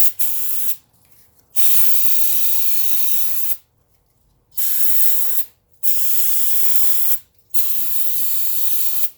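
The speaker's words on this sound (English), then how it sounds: "I just take some type of brake cleaner, spray it on there to try to get all the oil off" Brake cleaner sprays in four long, loud hissing bursts with short silent gaps between them, close up, as oil is cleaned off a Cub Cadet XT2 lawn tractor with a Kohler 7000 Series engine during an oil change.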